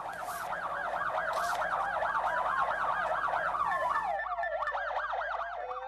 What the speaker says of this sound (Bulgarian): сирените на линейките бяха включени